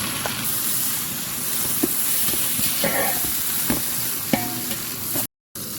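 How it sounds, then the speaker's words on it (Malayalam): Sliced onions and tomatoes fry in a pan for a dry fruits and nuts biryani, a steady close sizzle with occasional stirring scrapes and clicks running throughout, no voices. "ഒരു കിലോ സബോള കട്ട് ചെയ്ത് തക്കാളി കട്ട് ചെയ്ത് ഇട്ട് കൊടുക്കാം"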